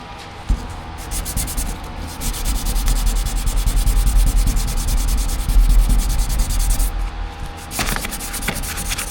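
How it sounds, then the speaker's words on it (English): Hand sanding of a car body panel in the engine bay of a 1972 Ford Courier during an MX5 chassis swap, a steady close rasping rub that runs without a break for most of the stretch, with no talking. "as you sand it, you can see all your low spots stay black and all the high spots turn gray"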